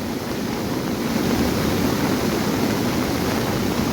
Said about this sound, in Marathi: किती जोरात पाणी येत आहे आणि खूप नदीला प्रचंड पाणी आहे आज